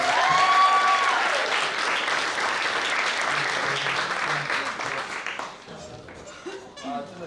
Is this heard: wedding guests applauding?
yes